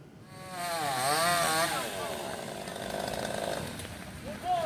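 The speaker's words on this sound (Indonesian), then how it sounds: "Petugas menggunakan gergaji mesin untuk memotong dahan pohon yang menimpa kendaraan demi mengevakuasi korban." Chainsaw cutting fallen banyan tree branches off crushed cars on a Jakarta street after a windstorm, its engine revving and wavering loudly through most of the stretch, with outdoor bustle behind.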